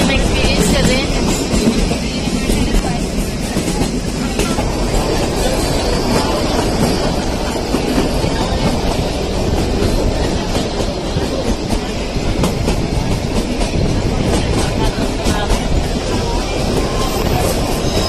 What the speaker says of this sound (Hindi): यहाँ पे आके टॉय ट्रेन का एक अलग ही मजा है, जिसे हम एक्सपीरियंस कर रहे हैं।